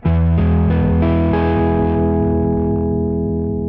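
An electric guitar run through a KHDK Annihilator octaver pedal gives a loud, buzzing, distorted sustained tone with warbling synthetic artifacts and overtones, slowly decaying without any talk.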